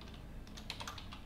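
Quick, light typing on a computer keyboard, heard close and steady during a programming session creating a UART library file in XC8, with no voices.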